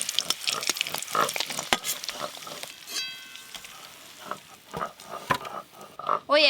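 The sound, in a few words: frying eggs in oil for egg curry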